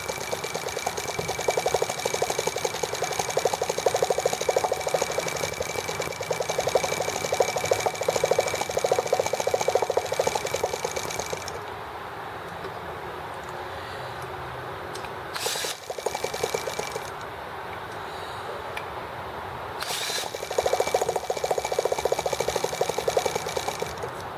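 A T26 tank engine runs continuously after starting with a buzzing mechanical drone. It drops noticeably quieter partway through, with a couple of brief bursts, then builds back up near the end, and no voice is heard.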